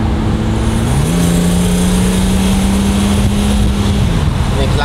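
A Brabus-tuned Mercedes-Benz 280SL Pagode drives steadily, its engine droning loud and close with a smooth held note that shifts pitch up and then back down as it accelerates and eases off.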